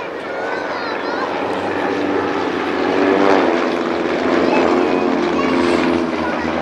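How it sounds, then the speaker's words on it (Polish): Aircraft engines roar steadily during a flyover at an air show in Mielec, a dense, continuous drone that swells slightly midway, with a voice faintly present beneath it. "każdy z tych samolotów pokonuje zupełnie inną drogę podczas tego pokazu"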